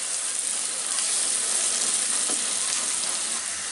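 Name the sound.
onions and mustard seeds frying in a pan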